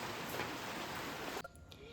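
Heavy rain pours as a loud, dense, steady roar that breaks off abruptly near the end.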